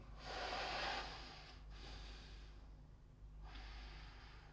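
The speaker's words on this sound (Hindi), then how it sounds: "जरा सांस लो लंबा।" A patient draws a long, deep breath on a doctor's request during an examination: a soft, close breathy rush, then quieter airy breaths with a brief pause.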